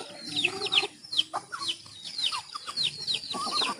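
Several chickens cluck and squawk in quick, overlapping bursts, close by, with no voices.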